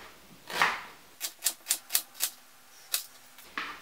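Knife slicing an onion into strips on a cutting board, a run of about eight crisp, evenly spaced close chops and taps with quiet pauses between.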